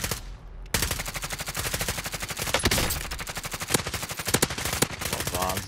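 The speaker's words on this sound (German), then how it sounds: "Mit Sturmgewehren geschossen" Sustained rapid assault rifle fire in a video game, a loud rhythmic stream of shots with a few heavier cracks standing out, with brief voices underneath.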